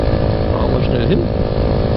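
A motorcycle engine drones steadily on a ride through Vietnam toward Phong Nha, loud and close with buffeting wind noise, while a voice talks over it.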